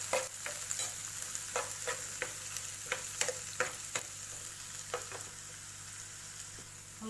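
Finely chopped capsicum and tomato sautéing in a pan for pav bhaji, with a steady sizzle and repeated sharp clicks and scrapes of a spoon stirring against the pan. No talk.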